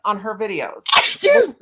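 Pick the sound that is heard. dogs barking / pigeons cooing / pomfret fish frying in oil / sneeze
sneeze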